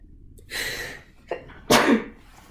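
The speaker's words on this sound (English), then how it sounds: "Oh, I feel a sneeze coming on." One person sneezes up close: a drawn-in breath and a short catch, then a single sharp, explosive sneeze.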